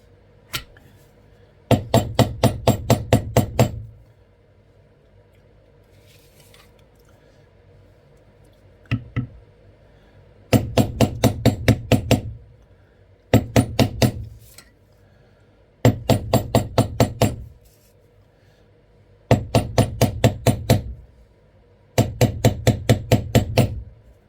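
A leather craftsman strikes beveling tools into leather with a mallet, producing bursts of rapid, sharp, evenly spaced taps close and loud, separated by short quiet pauses with no talking.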